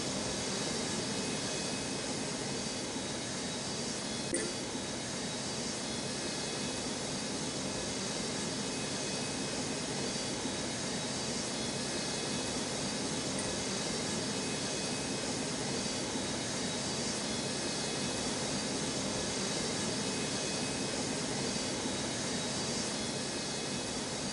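Jet aircraft noise around the Newark airport runways, a constant far-off broadband roar with steady engine hiss and no distinct passes, no talk.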